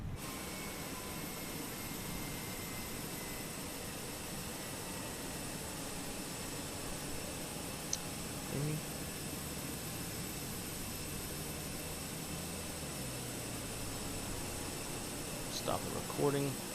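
A Fenix A320 airliner on a one-engine landing approach in a flight simulator gives off a steady, faint jet engine hum with a constant whine, low and even throughout, with a couple of small clicks.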